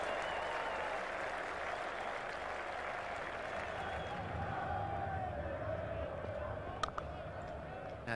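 Cricket crowd at Old Trafford cheering and applauding a boundary during an England v Australia Test match, a dense, steady roar of clapping and voices that holds loud throughout.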